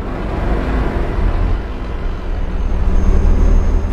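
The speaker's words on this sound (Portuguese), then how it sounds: "Maneiro o barulho do caminhão passando." A damaged 2009 Volvo FH16 truck in Euro Truck Simulator 2 rumbles past with a deep, continuous engine drone that swells slightly toward the end, loud and close, with no talking.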